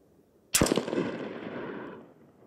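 A single loud rifle shot fired as a test with a SureFire Warden muzzle device, a sharp close blast followed by a long rumbling echo that fades over about a second and a half.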